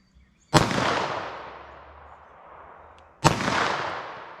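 Two loud gunshots from a .380 ACP pistol firing Underwood Xtreme Defender ammunition ring out at an outdoor range, spaced under three seconds apart. Each shot is close and sharp and leaves a ringing tail of echo. No one talks.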